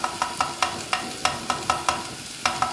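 Tomatoes sizzle in a hot pan with frying spices for chicken biryani, with regular scraping stirs every few tenths of a second over a steady frying crackle.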